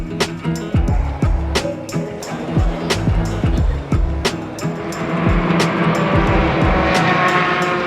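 Copa Truck Series big-rig racing trucks in Brazil roar past one after another, with loud engine sweeps rising and falling as each truck passes close by, over steady track noise with a few sharp clicks.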